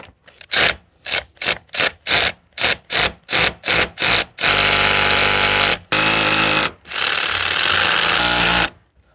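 A power drill whines in a series of short, loud bursts while drilling a 20 mm hole close to an edge, then runs in two long continuous stretches, close and harsh.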